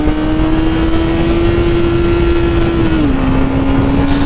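A 2017 Honda CBR 1000RR sportbike engine screams at high, steady revs, its pitch holding level before dipping as it shifts gear, loud and close with wind rush and no talk.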